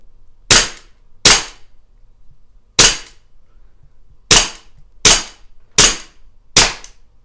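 Seven sharp, loud pistol reports from a Colt 1911 100th anniversary CO2 air pistol, fired singly at irregular intervals of roughly a second, each a crisp crack with quick decay and no talk in between.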